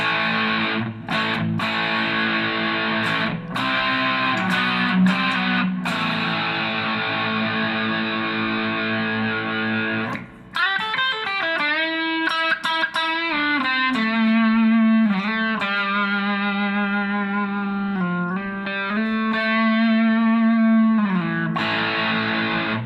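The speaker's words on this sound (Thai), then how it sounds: "อันนี้ก็เป็นเสียงเดสชั่นก็กดเปิดนะ" A heavily distorted electric guitar played through a Mooer GE100 multi-effects unit into a speaker in a room plays chords and sustained notes, some strummed in short bursts, then long ringing tones bending and shifting.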